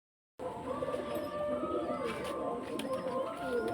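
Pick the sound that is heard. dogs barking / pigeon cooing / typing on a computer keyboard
pigeon cooing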